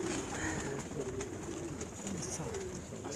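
Pigeons coo on a rooftop in soft, repeated rolling calls over steady background noise, fairly close but quiet.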